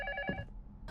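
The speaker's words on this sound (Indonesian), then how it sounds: "Tetapi telepon berdering" A telephone rings in the grief-themed horror game LUTO, giving a short, clear electronic ring that breaks off quickly, with a low hum beneath it.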